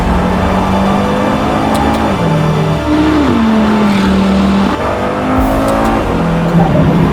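A KTM sports car engine revs hard while driving, loud and close, with rising and falling pitch as it accelerates and shifts through gears, no voices over it.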